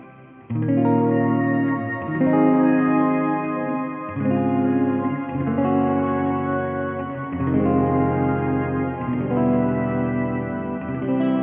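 Strummed electric guitar chords pass through a Ventris Dual Reverb with hall and shimmer reverbs combined, each chord blooming into a long, bright, shimmering tail that fills the gaps between strums.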